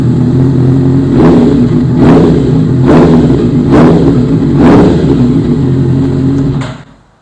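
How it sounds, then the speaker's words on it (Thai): Honda CB650F motorcycle exhaust revved up close in about five loud, evenly spaced blips over a steady idle, then cut off abruptly at the end. "เดี๋ยวเรามาฟังเสียงท่อกันต่อ"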